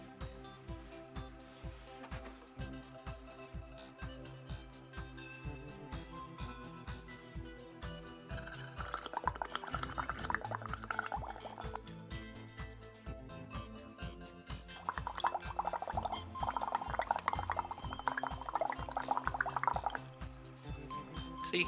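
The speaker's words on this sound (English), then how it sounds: "let's see what happens when I exhale carbon dioxide into my solution of lime water." Breath blown into a lime water solution bubbles and gurgles steadily, with louder, denser bursts of bubbling in two stretches, close up and with no talking.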